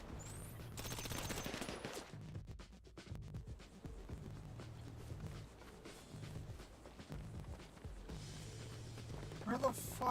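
Rapid bursts of gunfire crackle through a video game gunfight, with dense automatic volleys and scattered single shots over a low rumble, the firing clustering near the start and end alongside footsteps and movement.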